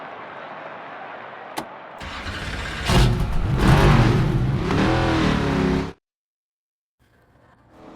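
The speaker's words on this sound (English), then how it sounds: "The engines are fired up" Stock car engines in the NASCAR 25 video game idle, then rev loudly and climb in pitch for several seconds before cutting off abruptly, leaving near silence and a faint return of noise.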